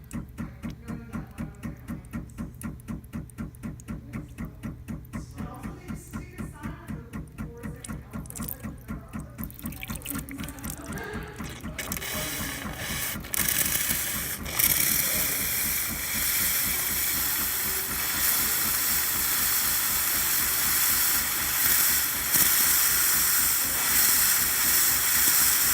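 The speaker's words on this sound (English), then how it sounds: "Test the steam here for a minute." A Gaggia espresso machine's steam wand, just back from a full service, first spits and pulses rapidly as water purges, then settles into a loud, continuous roaring hiss of steam that holds to the end.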